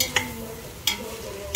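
Meat for batchoy being stirred in a hot pan, a steady close sizzle with three sharp scrapes of the spatula against the pan at regular intervals, no talking.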